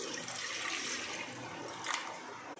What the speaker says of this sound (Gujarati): તો આપણે પાણી નાખીશું।